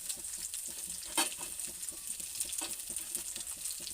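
Food frying in hot oil in a pan, with a steady sizzle and light stirring scrapes. A few sharper crackles stand out against the constant hiss.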